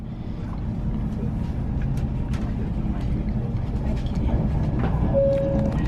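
Steady low rumble of a train running into Doncaster station in England, heard from inside a carriage, with a continuous rolling drone, faint clicks and a brief tonal squeal near the end.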